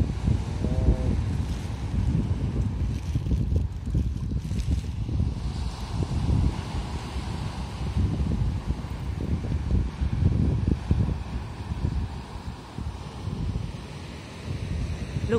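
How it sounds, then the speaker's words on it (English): Continuous wind rumble and wash of the water at Saroma Lake, Hokkaido, blend into a steady, broadband roar, with gusts buffeting the microphone throughout. "let's listen to the sound of the ocean."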